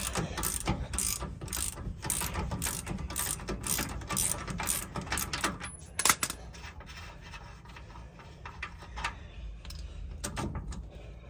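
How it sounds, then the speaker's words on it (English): A ratchet clicks in quick bursts while removing a rear shock nut on a 2024 Ford F250 during a Fox 2.0 shock install, close and crisp, with a brief metallic clank midway and pauses between runs. "Let's get the nut off."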